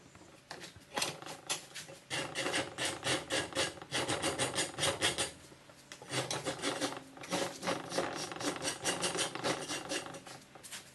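A rasp filing a wooden spoon, with its flat side worked around the bowl in steady rhythmic scraping strokes, broken into two long bouts by a brief pause.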